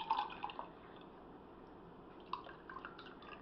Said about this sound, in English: And I'm going to pour it in this glass.